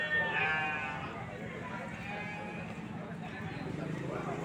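A goat bleats briefly near the start at a busy livestock market in Trenggalek, East Java. A continuous murmur of crowd noise and a man's speech fill the rest.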